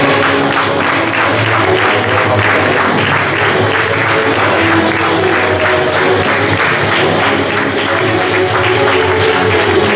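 Steady, loud applause fills the room at the Team Oli-Mar rally team presentation as the new Clio R3 Maxi is unveiled, a dense sustained clapping crowd lasting throughout.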